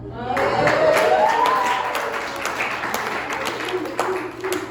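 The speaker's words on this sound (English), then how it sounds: "No, the cheering is not necessary." A stand-up comedy audience cheers and claps for the comedian, a swell of whoops and applause that peaks early and then thins into scattered claps.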